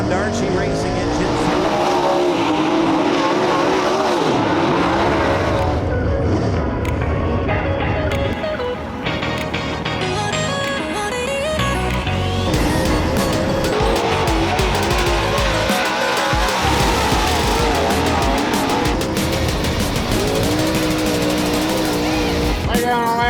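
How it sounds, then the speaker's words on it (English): A Rocket XR1 race car with a Darcy Racing engine out of Washington, Illinois, roars loud and continuous with rising and falling engine revs and tire noise, under a commentator's voice and crowd sound. "Out of Washington, Illinois, the Rocket XR1 Darcy Racing engine."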